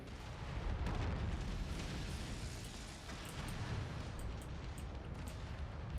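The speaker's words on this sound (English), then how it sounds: "Incoming missile." Loud, continuous rumbling explosions from incoming missiles in the mech combat game Mechwarrior 5, a dense, sustained barrage of booms and blasts with no clear gaps.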